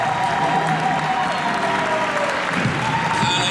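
A church congregation applauds and cheers in praise of the Holy Spirit, steady loud clapping filling the room throughout with voices mixed in.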